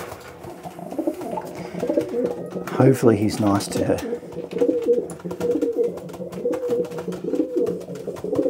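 Low cooing of racing pigeons rumbles steadily throughout, with a person speaking briefly partway through and soft rustling in the background.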